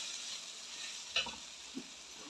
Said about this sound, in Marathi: मग टाकतो ही भाजी आता तेलात